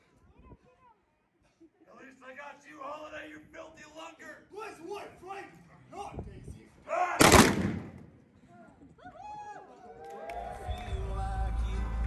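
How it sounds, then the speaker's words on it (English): A staged Old West gunfight reenactment at the OK Corral, with one loud close gunshot cracking out amid shouting performers and crowd voices, followed by rumbling noise. "We're about to watch the gunfight at the OK Corral."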